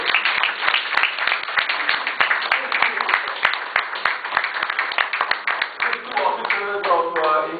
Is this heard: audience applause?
yes